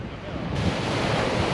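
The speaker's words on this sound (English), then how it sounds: "It's extremely windy. I'm trying to block the wind" Strong wind at a Mediterranean beach with black sand in a small Italian town buffets the microphone with a loud, close roar over crashing surf, and the gusting grows heavier partway through.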